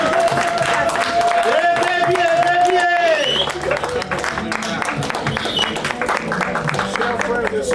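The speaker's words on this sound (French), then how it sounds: "Je vous prie de bien vouloir applaudir les mariés." Applause and clapping from guests at a civil wedding ceremony in Chartres, a dense steady crowd patter filling the whole stretch, loud and close, with voices and a sung or called tone over the first half.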